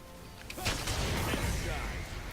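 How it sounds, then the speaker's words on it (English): Jayce in League of Legends fires his Q shot through his acceleration gate: a loud, sustained crashing blast with a whooshing burst, filling most of the short moment. "You're going to fire your Q first and then hit your acceleration gate."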